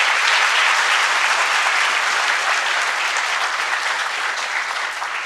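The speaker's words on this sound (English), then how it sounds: "A huge round of applause," A large audience at an institute lecture event breaks into sustained applause, a thick, even wash of many hands clapping at once that fades only slightly toward the end.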